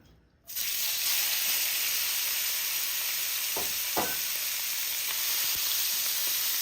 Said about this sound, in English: after allowing my oil to come up to a nice hot temperature, I'm going to add in my shrimp.